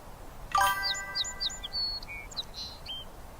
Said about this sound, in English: I hear birds chirping.